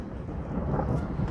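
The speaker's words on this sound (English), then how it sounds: "we just had a thunderstorm. You can hear it rolling through now." Thunder rolls on after a thunderstorm over a lake, a steady low rumble that fills the short stretch evenly at moderate level with no voices.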